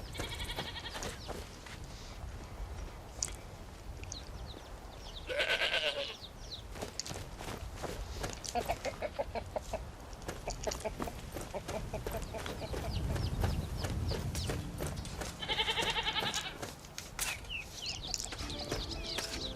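A goat bleats twice in Skyrim, near Whiterun, the calls standing out over steady ambient game sound and background music, with a faint voice at times.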